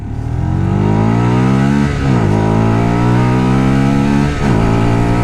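A Lexmoto LXR six-speed motorcycle carrying a passenger accelerates to overtake, its loud engine revs climbing steadily, dropping briefly at two gear changes and rising again, heard close from the rider's position.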